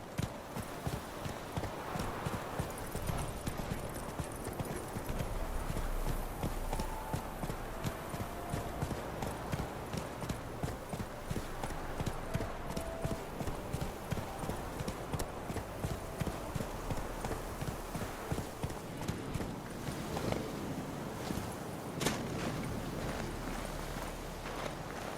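Hooves of a galloping horse in The Witcher 3 beat in a steady rapid rhythm over a low ambient bed, continuing throughout with faint background game sounds.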